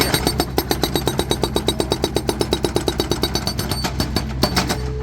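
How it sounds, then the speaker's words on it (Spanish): A hydraulic jackhammer breaks ground at a stadium construction site, hammering in a fast, steady run of loud, close blows before stopping near the end. "mirad cómo están picando con ese martillo hidráulico"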